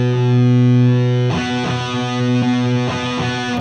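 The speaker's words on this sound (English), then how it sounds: "I really love this pedal and this model with the JCM 800 2203 in the Helix." An electric guitar plays through a Teemah overdrive model into a JCM 800 2203 amp model on a Line 6 Helix. A sustained distorted chord rings out first, followed by loud, crunchy rhythmic chords.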